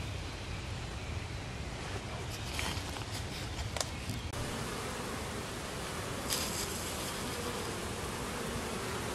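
Honeybees at a backyard hive with pollen coming in, a dense steady hum of many wings close by, continuous for the whole stretch with faint brief buzzes of single bees passing near.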